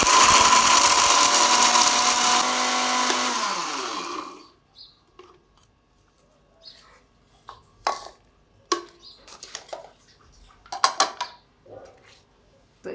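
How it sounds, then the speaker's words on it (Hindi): Whole spices for homemade pakora and chaat masala are ground coarsely in a mixer grinder: a loud steady whirr for about four seconds that winds down, followed by scattered clinks and clatter of the jar and utensils. "तो इसी तरह दरदरा सा हम सारा मसाला पीस लेंगे।"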